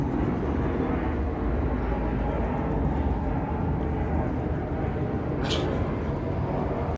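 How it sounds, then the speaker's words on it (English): An airplane passes overhead outdoors at a backpacking stove test site, a steady low rumbling drone that holds throughout without rising or fading, with no voices over it. "Wait for the airplane."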